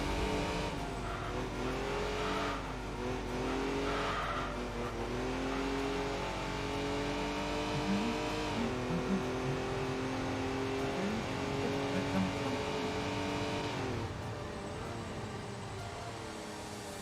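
Toyota Prius engine revving and droning through racing laps in the video game Enthusia Professional Racing, steady and loud with pitch rising and dropping across gear changes and corners, alone without talk.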